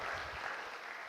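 Audience applause for a rapper at a live show with high schoolers in the Virgin Islands, a brief, steady wash of clapping with no pauses.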